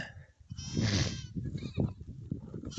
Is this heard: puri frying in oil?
no